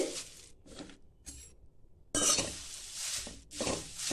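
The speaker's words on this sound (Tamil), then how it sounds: "முருங்கைக்கீரையை இப்போ கடாயில் போட்டு மிதமான தீ வச்சு சிம்மில் வச்சு பார்த்தீங்கன்னா முருங்கைக்கீரையை அப்படியே வறுத்து எடுத்துக்கலாங்க" Drumstick leaves dry-roasting over a low flame in a kadai, with intermittent scraping and stirring strokes of a ladle against the metal, quiet bursts at first, then longer, louder scraping passes.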